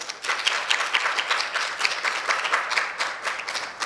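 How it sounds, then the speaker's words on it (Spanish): An audience at an academic psychology conference applauding steadily, a dense, even patter of many hands clapping throughout with no voices on top. "le damos un aplauso"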